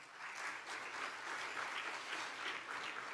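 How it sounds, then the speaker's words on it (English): An audience at a ceremony applauds, a dense, even wash of clapping from many hands that holds steady for the whole few seconds without any voices. "Let's give them a big round of applause once again."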